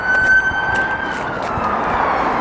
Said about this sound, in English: she just switched and put her sirens on